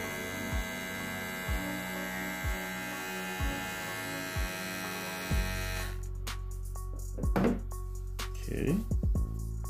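A 2022 corded hair clipper rated at 5,500 RPM runs with a steady electric hum for about five seconds, then cuts off. Clicks and handling knocks follow, and there is no talk.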